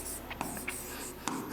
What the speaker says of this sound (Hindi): तो यहां पर हम लिखेंगे श्याम